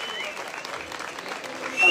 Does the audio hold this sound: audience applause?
yes